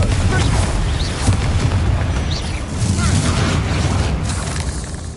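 A loud, rumbling fiery blast from the Confringo spell in the Hogwarts Legacy video game, heavy and sustained through the clip amid combat noise.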